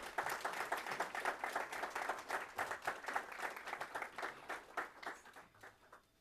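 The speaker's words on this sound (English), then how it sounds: "Let's welcome them with a warm North Miami round of applause." Applause for a university jazz combo at a North Miami civic event, a sustained patter of many hands clapping in a hall, steady and fairly distant, fading gradually.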